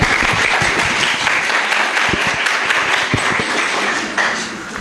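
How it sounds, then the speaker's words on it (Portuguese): An audience claps throughout a talk on photography and memory, a dense and fairly loud burst of applause that holds steady for several seconds and eases slightly toward the end. "Palmas!"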